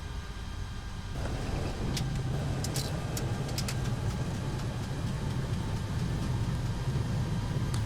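Airbus A330 engines roaring in reverse thrust after touchdown in a flight simulator, a steady loud broadband rumble that swells about a second in and holds, with faint clicks above it.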